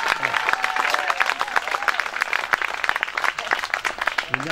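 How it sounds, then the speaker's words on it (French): Audience applause for volunteers at a youth bodybuilding trophy event, individual claps audible within a lively, uneven crowd clatter, with a faint tonal sound or voice drifting underneath. "Je voudrais aussi que vous applaudissiez aussi"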